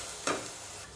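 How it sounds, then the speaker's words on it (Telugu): Ginger and turmeric frying over a low flame get stirred in a pan, giving a soft continuous sizzle with one brief scrape of the spoon; faint and close, without talking. "మనం ఇట్లా ఫ్రై చేసేటప్పుడు అడుగంటకుండా ఇట్లా తిప్పుకోండి, తక్కువ ఫ్లేమ్లో మాత్రమే"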